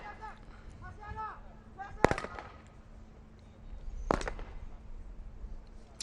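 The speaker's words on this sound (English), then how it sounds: "One more shot to go for the Indonesian sniper." Two sharp, loud sniper rifle shots ring out about two seconds apart at an outdoor SWAT team competition, each with a short echoing tail; a voice talks briefly before the first shot.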